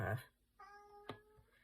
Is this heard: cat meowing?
yes